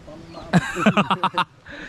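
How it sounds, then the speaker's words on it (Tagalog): A quick series of clucks from a chicken, about six short bursts in a row, close by over faint background noise. "may mga manok-manok dito"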